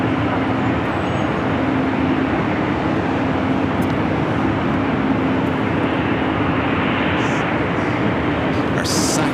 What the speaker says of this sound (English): Our second Breeze Airbus A220 taking off here on the north side.